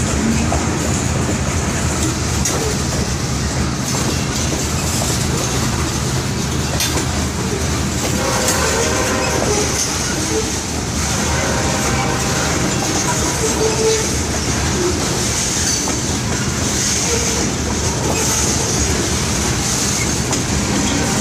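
A long train rolls past on the tracks, a steady, loud rumble of wheels and rail noise that holds for the whole stretch with no letup and no voices.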